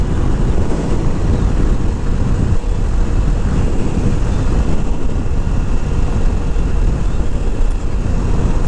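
Small-displacement motorcycle riding along, a steady, loud broadband engine and wind roar that holds constant throughout with no pauses, close to the microphone.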